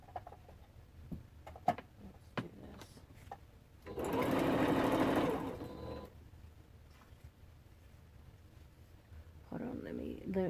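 A sewing machine chain pieces quilt strips for a bargello quilt, its needle whirring in a steady close burst of a couple of seconds and briefly again at the end, with scattered clicks and a person talking between runs.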